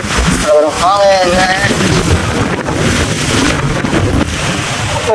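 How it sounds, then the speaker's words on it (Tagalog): Strong wind blows by the water in a mangrove area, a steady buffeting rush under a voice throughout, with speech present over the wind noise. "Sobrang hangin."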